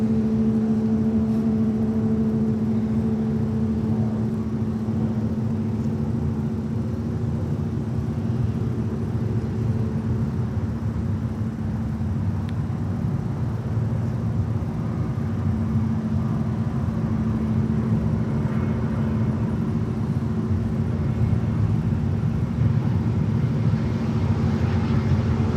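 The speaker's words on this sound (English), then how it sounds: "let's cover JetBlue coming in from Atlanta" JetBlue airliner arriving from Atlanta at Fort Lauderdale-Hollywood International Airport, a steady low engine roar and rumble heard from a distance, continuous over the whole stretch, with no talking.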